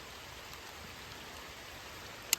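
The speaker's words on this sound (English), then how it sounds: "The rain droplets kind of make things harder to see." Steady rain falls on a small creek, a soft even hiss of drops on water, faint and close without pause, ending in a single sharp tap.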